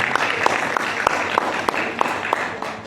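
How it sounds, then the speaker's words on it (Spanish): Audience applause at a book launch, a dense wash of clapping filling the room with a few sharper claps standing out at a steady pace, fairly close and continuous throughout. "repitamos el aplauso para ella"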